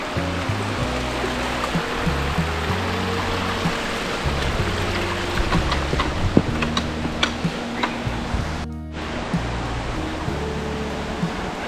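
Waterfall at Linkya Ghat in a misty hillside setting, heard as a steady broadband rush of falling water with no talk. It stays constant throughout, with a brief dropout near the end.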